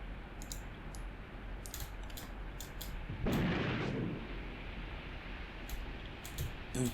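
Artillery barrage in the video game Graviteam Tactics: scattered sharp distant shell impacts and crackling bursts, with one heavier rumbling blast in the middle and more sharp hits toward the end, no voices.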